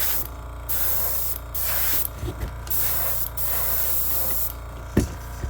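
Bursts of fine, hissing airbrush paint spray on a crankbait fishing lure start and stop several times, steady while on, with brief quiet gaps and a small knock between them.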